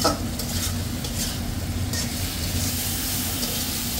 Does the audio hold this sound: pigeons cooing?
no